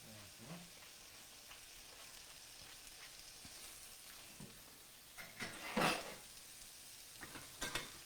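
Chopped onions hit a hot pan just used for cooking eggs while making Pad Thai, giving a faint, steady sizzle with a few louder crackling bursts and clinks of a utensil, no speech.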